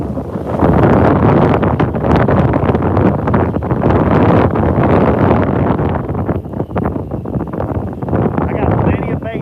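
Strong wind while fishing in a wind storm roars and buffets the microphone loudly and steadily throughout, with someone talking under the gusts.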